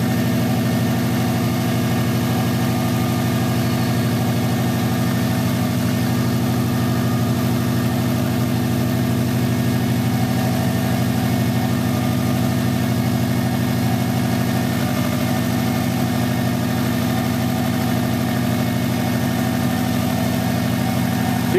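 A Subaru engine idles steadily with the heater on full during a coolant refill after timing belt work, a loud, even, droning hum with constant vibration and no talk.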